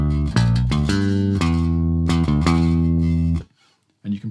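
A short melodic bass guitar phrase, notes moving up and down in a clear rhythm, played alone and close, ending with a brief pause and a final note.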